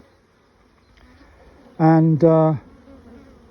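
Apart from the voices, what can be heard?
honey bees buzzing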